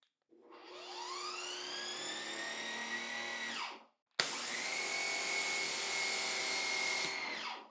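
An electric pressure washer with electric hose reel, about 7 feet away, whines up to a steady high-pitched drone and cuts off, then restarts louder with a hissing rush of spray.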